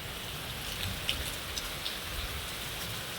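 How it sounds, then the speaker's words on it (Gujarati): Steady rain pours down outside near an open temple area, a dense, even hiss with a few sharper drips landing close by, continuous throughout with no voices. "જો વરસાદ ચાલુ છે ગાઈસ અત્યારે"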